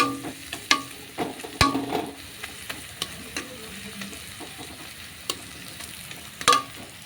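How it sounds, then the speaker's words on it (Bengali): Sliced onions fry and are stirred in a hot pan for a spicy rohu fish curry, with a steady sizzle under repeated scraping and clacking strokes of a spatula, near and fairly loud. "পেঁয়াজটাকে ঠিক এইভাবে নাড়াচাড়া করে নিতে হবে"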